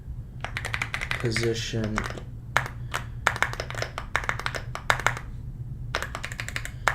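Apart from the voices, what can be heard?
typing on a computer keyboard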